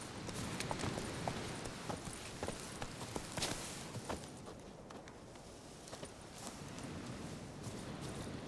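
Hoofbeats of Roach, the horse in The Witcher 3, a steady clip-clop of footfalls at a walking pace, fairly faint and continuous over a soft ambient game background.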